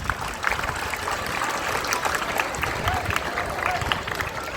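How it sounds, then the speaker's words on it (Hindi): Loud, sustained applause rises from a large audience at a school foundation day celebration at PM Shri Kendriya Vidyalaya Ujjain, greeting the Union Minister. The dense clapping fills the whole stretch without a break. "जोरदार ताली बजाओ"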